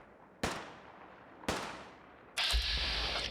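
Two sharp combat rifle shots in the Fallout 4 video game, about a second apart, each with a decaying tail, followed by a louder sustained burst of noisy firing.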